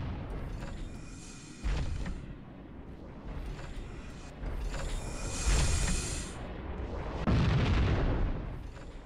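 Heavy explosions and gunfire from the video game Halo: Combat Evolved, with three big booming blasts spaced a few seconds apart over a rumbling battle background, loud and close.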